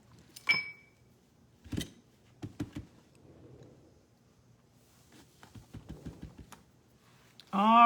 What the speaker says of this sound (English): I think I forgot to stamp the envelope